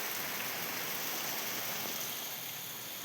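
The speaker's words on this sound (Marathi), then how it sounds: "मुसळधार पावसामुळे नदी नाले तुडुंब भरून वाहू लागले आहेत" Heavy monsoon rain pours steadily around Vishnora village in Morshi taluka, with swollen rivers and streams nearby, a dense continuous hiss of downpour with no voices.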